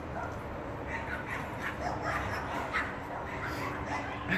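Several dogs at an animal pound bark, yip and whimper together in a dense, continuous chorus that sounds moderately close and echoes inside.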